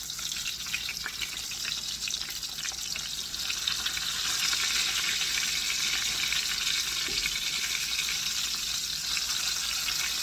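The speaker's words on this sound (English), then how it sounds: "So I'm going to keep frying these up like this" Chicken cutlets sizzle and crackle steadily in a hot pan, a continuous bright frying hiss that swells slightly louder partway through.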